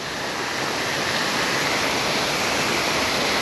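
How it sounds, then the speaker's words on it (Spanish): A street fountain in the Hato Rey banking district of San Juan gives a steady, dense rush of falling water, loud and unbroken, with no talking. "Escuchan la fuente ahí, el agua."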